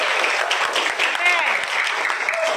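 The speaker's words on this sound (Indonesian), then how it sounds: "tepuk tangan dulu" Students in a school classroom give a short burst of clapping, a busy patter of many hands with voices mixed in and faint chatter running beneath it.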